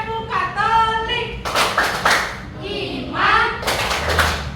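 In a classroom, the Tepuk Katolik chant alternates group voices chanting in unison with short bursts of rhythmic, close handclapping, twice in quick succession.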